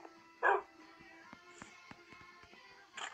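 Dog barking in the video game Minecraft, two short sharp barks separated by quiet clicks and faint game ambience.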